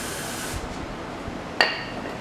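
Brake cleaner sprays in a short hissing burst into the four carburetors of a CB750 motorcycle left sitting for 35 years. The burst is followed by light clinks and a sharp metallic tap up close.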